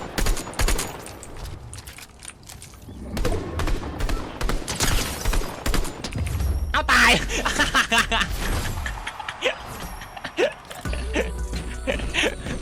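Gunfire in Fortnite: loud, rapid bursts of automatic shots and scattered single cracks, dense and close, with other game noises between the volleys.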